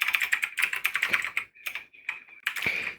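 Rapid, steady typing on a computer keyboard, close and crisp, with dense clusters of keystrokes broken by two short pauses.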